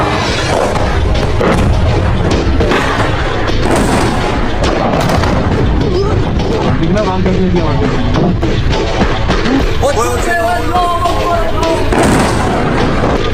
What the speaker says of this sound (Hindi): हर 2 मिनट बाद मिसाइलों की आवाज़